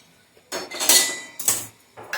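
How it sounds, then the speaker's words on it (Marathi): Roasted fenugreek seeds are pounded in a mortar and pestle, giving four sharp, hard strikes spaced irregularly, close and clear with brief ringing and no talk. "आता खलबत्त्यामध्ये मी हे कुटणार आहे"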